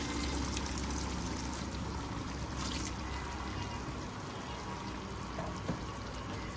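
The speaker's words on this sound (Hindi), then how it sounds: "अब इसमें हम पानी शामिल करेंगे।" Water pouring into a cooking pot of achar gosht, about two glasses added, a steady continuous splashing pour with no talk.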